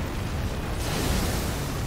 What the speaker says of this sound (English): Is that like a super explosion thingy or what?